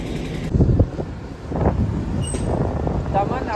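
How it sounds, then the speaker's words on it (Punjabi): A low tractor engine rumble with wind buffeting the microphone as the tractor draws near; people talk over the noise. "ਟਰੈਕਟਰ ਆ ਰਿਹਾ ਟਰੈਕਟਰ"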